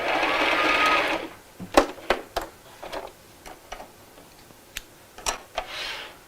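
A sewing machine runs in a short whirring burst while stitching a tote bag strap, then stops, followed by a scattering of sharp clicks and taps from handling the machine. No one talks.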